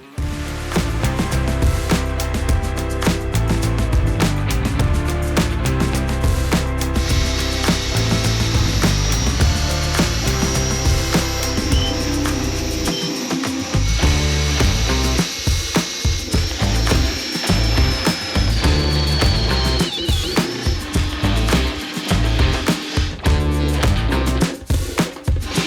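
A power tool drills mounting holes for a diesel heater inside a van, loud and continuous with a grinding, whining tone that shifts pitch midway and runs nearly unbroken with short gaps.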